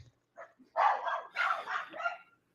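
Indoors, a dog lets out a quick run of barks and yips, several short bursts in succession at moderate distance, with no talk over them.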